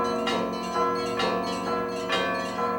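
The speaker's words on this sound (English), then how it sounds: "While the bells ring above St. Vladimir's" Church bells ringing above St. Vladimir's in Ukraine: loud, close strikes repeating about once a second, each blooming into a dense, sustained wash of metallic overtones that never fully dies between hits.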